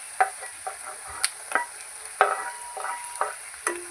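Tomatoes frying for upma in a pan, soft sizzling under repeated scraping stirs of a spoon, a steady series of light strokes close by.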